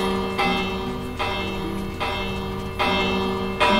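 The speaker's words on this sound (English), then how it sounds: "Now, look at all that ringing." Minecraft bells struck by a redstone auto bell ringer in the video game, clanging in four evenly spaced loud strikes whose bright, metallic ring sustains between hits, with no talking.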